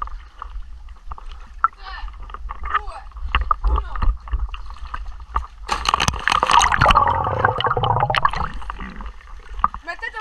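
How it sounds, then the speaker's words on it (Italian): A person does a cannonball dive into water, a sudden heavy splash followed by churning and gurgling that fades out. Before the splash there is a stretch of faint outdoor sound and small noises. "Inizio io con il tuffo a bomba"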